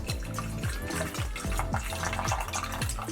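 Trader Joe's organic soy milk is poured into a milk frother, a gurgling, glugging stream with rhythmic bubbling pulses, close and steady for a few seconds.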